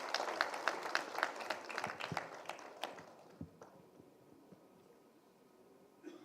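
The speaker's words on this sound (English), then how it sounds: "I request the gathering to welcome with a big applause" A conference audience applauds to welcome a speaker, a dense patter of many hands clapping at moderate distance for about three seconds before it fades into quiet room noise.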